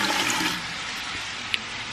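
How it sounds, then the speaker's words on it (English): Tap water rushing into a cooking pot for red beans and rice, a steady loud gush that eases slightly as it continues alone. "So I'm going to add 5 cups of water"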